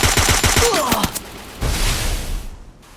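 Rapid loud gunfire in a battle royale video game ranked match, a quick burst of shots up front followed by echoing fire that trails off.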